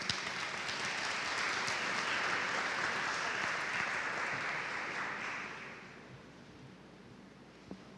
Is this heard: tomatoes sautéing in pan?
no